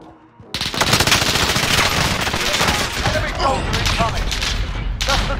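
Automatic gunfire in a Warzone battle royale match, dense rapid bursts loud and continuous for several seconds after a brief quiet start, with a voice talking over it.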